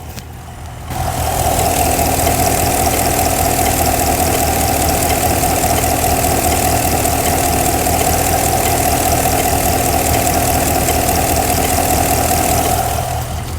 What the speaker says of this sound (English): I'm going to hold it to the engine. I want you to hear this.